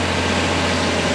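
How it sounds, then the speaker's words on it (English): Concrete pump truck pumping concrete into a form at a narrow building site, a loud, steady low engine drone with no pause. "It's a little loud, but we're basically pumping the concrete into the form."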